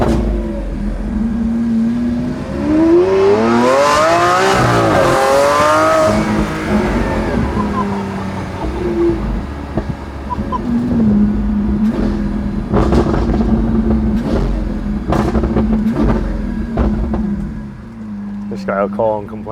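A Lamborghini V12, either Aventador or Murcielago, revving hard on a road with rising and falling engine sweeps, then cruising with a steady drone, while people talk inside the car throughout.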